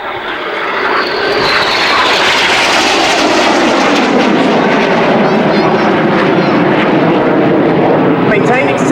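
Hawker Hunter jets pulling hard through an opposition loop at an air display: a loud, continuous broadband jet roar that swells within the first second, then stays close and intense throughout.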